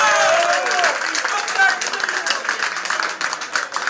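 Applause and clapping from an audience for a performer on stage, a steady dense patter lasting throughout, with whoops and voices mixed into the crowd.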